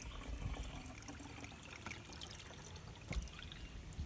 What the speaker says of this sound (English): then you can pour into your hummingbird feeder